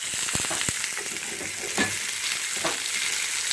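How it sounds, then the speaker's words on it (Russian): Pork fat renders and sizzles in a frying pan for fried potatoes, giving a steady close hiss with a few sharp crackles and stirring scrapes, and no voices. "Все, пусть вытапливается жир."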